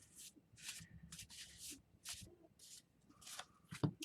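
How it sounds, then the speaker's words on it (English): Thin paper tarot cards are shuffled by hand in a quiet room, giving repeated short riffling and rubbing bursts with gaps between them and a soft knock near the end. "These are hard to shuffle."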